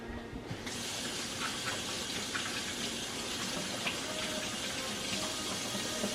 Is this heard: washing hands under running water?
yes